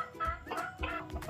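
Rooster at a park with exotic animals, a few short close clucks in quick succession, alone with no talk.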